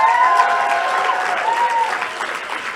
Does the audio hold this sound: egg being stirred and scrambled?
no